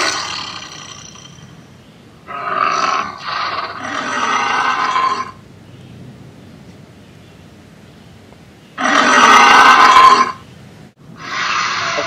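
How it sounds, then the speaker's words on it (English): A Gryposaurus hadrosaur snorts air through its inflatable nasal boss, giving several loud, rough, roaring bursts with short gaps and a final burst at the end. "A quick snort helps keep the herd at peace."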